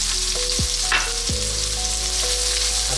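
Onion dropped into garlic frying in oil for a Filipino stuffed milkfish dish, a steady loud sizzle with a couple of brief scraping stirs, close and without speech.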